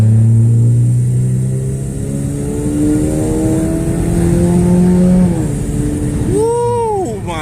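A Gen 2 Chevrolet Cruze with a TD025S hybrid turbo accelerates hard and loud up close, its engine note rising steadily through the gears with a brief dip at a shift before a final sweep upward.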